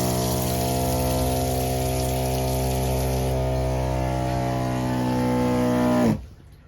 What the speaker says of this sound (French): La pompe s'arrête.